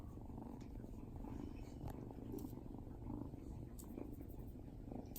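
A black cat purrs up close, a steady low rumbling drone that continues throughout with soft background voices.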